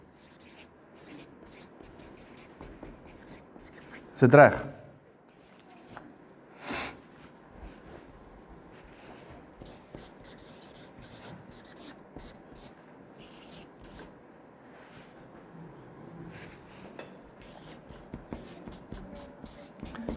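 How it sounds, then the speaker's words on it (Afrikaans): Pen or pencil scratching steadily on paper while someone writes by hand nearby, a soft continuous rustle with a couple of louder bumps and a brief spoken question partway through. "ek is gou besig om te skryf"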